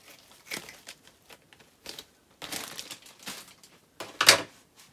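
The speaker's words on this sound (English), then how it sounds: "I'm gonna take a little bit of the, Spanish moss." Dry Spanish moss handled for a thrifted cedar picture craft, giving faint, sparse crinkling and rustling with one slightly louder crackle near the end.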